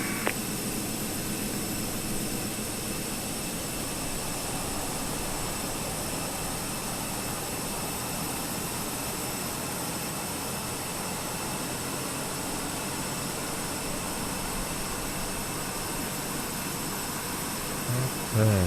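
A320 jet engines spooling up in a flight simulator, a steady loud broadband roar with a constant whine that holds evenly throughout, with a brief louder bump right at the end.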